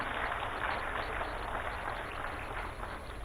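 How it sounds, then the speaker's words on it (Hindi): Loud, sustained applause fills the hall at the ribbon-cutting inauguration of the Chhatrasal Convention Centre by the Chief Minister, a dense steady roar of clapping from a large crowd. "जोरदार तालियां"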